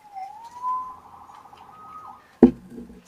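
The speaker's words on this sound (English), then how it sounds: "Saved by the siren." A single police siren wails in a video game, a faint, wavering tone that rises and holds for about two seconds before a sharp loud thump cuts in near the end.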